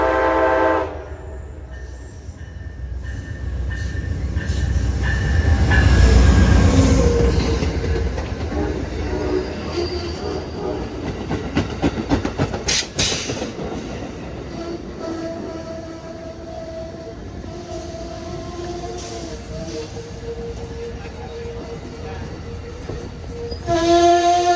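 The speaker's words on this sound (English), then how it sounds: "the train has arrived at the station" A passenger train pulls into a station in North Carolina with a loud rumbling approach, wheels clacking on rails and a long horn blast midway, then sustained tonal horn or brake tones as it slows, heard close.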